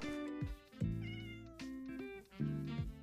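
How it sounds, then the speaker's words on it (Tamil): A cat in the Minecraft video game meows three times in clear, close, tonal calls with short gaps between them, alone over a soft steady game background. "இது ஏன் பூனையா,"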